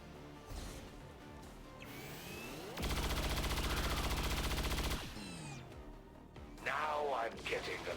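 Automatic gunfire from XCOM Long War of the Chosen rattles in a loud two-second burst, followed by a shorter burst, with game effects between and faint talk.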